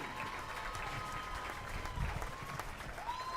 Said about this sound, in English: Round of applause for senior Shelby Peel.